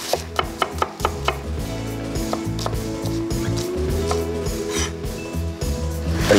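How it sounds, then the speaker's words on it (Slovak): Knife chopping shallot and garlic finely on a cutting board, a run of crisp, evenly spaced knocks at first, then softer continuous chopping over a low background hum. "Šalotku a cesnak nasekáme nadrobno."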